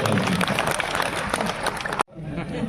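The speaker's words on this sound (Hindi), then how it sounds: "जोरदार तालियां" Loud, dense clapping from a large audience at a Hindi kavi sammelan poetry gathering in Lormi, sustained for about two seconds before cutting off abruptly, then giving way to quieter crowd murmur.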